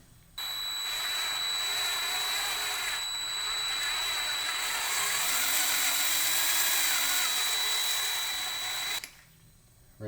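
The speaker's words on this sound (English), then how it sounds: "This drill bit is only going to catch on to the remaining threads at the bottom." A power drill whirs steadily for about nine seconds, a loud high-pitched grinding spin that cuts off abruptly near the end, as a drill bit cleans out threads in a BMW M50 engine from an E30.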